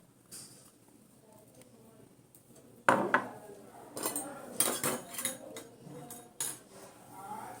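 Washed flattened rice (chira) being tipped into a pan with a sudden clatter, then repeated metal clinks and scrapes of a spoon against the pan, loud and close, with some speech nearby.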